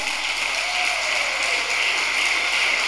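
Church congregation applauding during a worship service, a steady wash of clapping from many hands heard throughout without pause.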